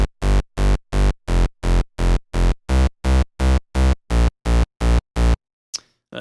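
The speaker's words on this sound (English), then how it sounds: "how to make a UK hardcore / hardcore rave bass using FL Studio's Harmor" A UK hardcore rave bass built in FL Studio's Harmor pumps in a rapid even string of about fourteen loud, buzzy, harmonically rich stabs, then stops abruptly with a faint tail. No voices.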